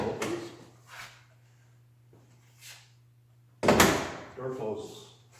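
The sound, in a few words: 1930 Ford Model A car door opening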